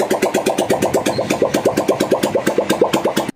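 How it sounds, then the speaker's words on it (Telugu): A rebuilt motorbike engine, kick-started because it has no self-starter, idles with a steady, fast, even thumping of about seven or eight beats a second. It runs loud and close, with no talk, then cuts off abruptly. "ఇంజిన్ బీటింగ్ ఏనండి వినిపిస్తాను. బండికి సెల్ఫ్ అది లేదు, నేను కిక్ కొట్టి స్టార్ట్ చేస్తాను."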